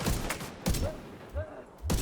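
Flame rounds fired in a video game, a few sharp separate shots with gaps between them, some quick tonal game effects in between, fairly close and loud.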